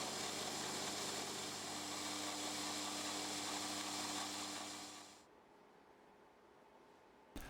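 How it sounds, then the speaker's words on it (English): Steady high-pitched whine of a 3mm slot drill milling a slot in a metal part, loud and continuous for five seconds, then cutting off abruptly into quiet room tone. "using a 3mm slot drill, I open out the rest of the slot."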